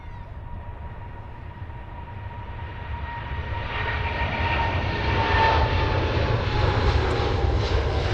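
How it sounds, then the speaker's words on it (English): An Emirates Boeing 777 airliner on its takeoff roll, a rising roar of jet engines with a steady whine that swells louder and fuller over several seconds, heard from a distance. "Just on the roll, just about to depart."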